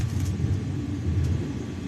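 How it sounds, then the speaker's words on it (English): Low, steady thunder rumbling outside a window during a lightning storm, a continuous deep roll that holds for the whole moment with no talk over it. "if you guys hear thunder, that's what that is."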